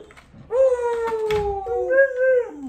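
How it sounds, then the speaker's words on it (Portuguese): Beagle howling up close, a long loud drawn-out howl that slides downward, then a second rising and falling howl, with faint small yips around it. "Uiva, então."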